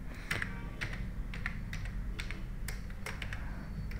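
Rapid keystrokes on a computer keyboard, a steady run of close, crisp taps with a few sharper key hits standing out, with no talking.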